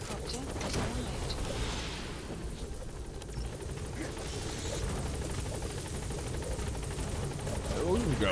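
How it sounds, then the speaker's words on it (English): A support helicopter arrives in Metal Gear Solid V: The Phantom Pain, its rotor chopping as a loud continuous churn with thumping bursts, rising slightly at the end, while a voice talks over it. "Support helicopter has arrived."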